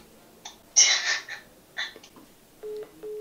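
After a call is hung up, a phone line gives two short electronic beeps near the end, following a few faint noises with no talk.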